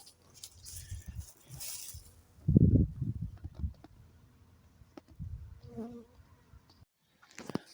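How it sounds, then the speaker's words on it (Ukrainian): Honeybees flying out of sunlit hives on a late-February day, a faint buzzing hum with occasional louder passes of individual bees near the microphone amid light outdoor background noise. "11 година дня починається масовий обліт в вуликах, на які світить сонце."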